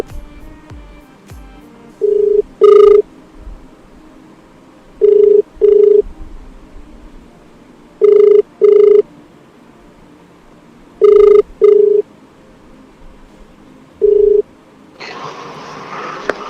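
Telephone dialing then ringing for a call on a radio phone-in show, a series of paired electronic ring bursts spaced a few seconds apart over a quiet line, ending in a burst of noise as the call connects.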